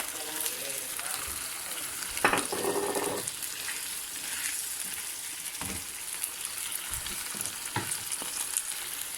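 A splash of white wine goes into a frying pan with about 40 to 50 grams of oil for Murcian-style artichokes, giving a quiet sizzle with a brief burst of spattering and a few soft clinks.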